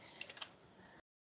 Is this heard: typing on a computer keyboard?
yes